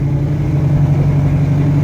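A 1969 Chevy Nova engine drones steadily while driving, a loud low hum with a strong constant tone and no speech.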